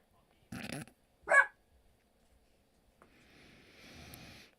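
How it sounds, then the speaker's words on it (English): A pet dog gives two short, fairly faint barks indoors, followed by quiet background hiss. "The one you're hearing bark"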